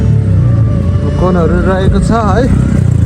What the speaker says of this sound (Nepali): अब यसमा तपाईँहरूलाई म स्टपी हान्ने छु रोलिङ स्टपी है।